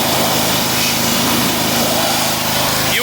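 A Husqvarna lawn mower engine runs close by, a loud, steady high-pitched motor drone holding the same pitch for the whole stretch with no talking over it.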